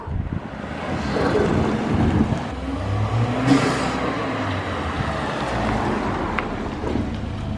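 Lexus RC200T fitted with an Injen cold air intake: engine revving and accelerating with a turbo whoosh and intake noise, heard amid wind buffeting and road rumble, fairly loud and continuous.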